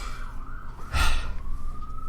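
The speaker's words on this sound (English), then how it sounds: "it's an ambulance." An ambulance siren wailing in a thin steady tone outside, with a brief louder burst of noise in the middle.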